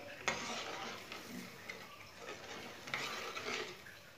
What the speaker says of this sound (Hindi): अब इसे चम्मच चलाते हुए मीडियम आंच पर इसे 10 मिनट के लिए पका लेंगे।